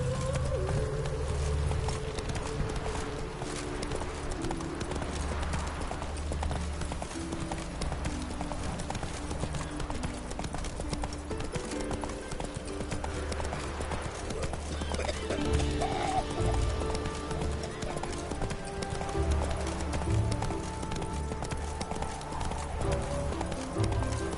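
Horse hooves clip-clop at a steady gallop in The Witcher 3 video game, close and continuous under background music, with an occasional neigh.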